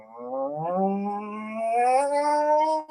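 A voice imitates a V8 car engine, a rising and falling droning hum with strong tonal harmonics, sustained for about three seconds and climbing in pitch like revs building, with no other sound alongside.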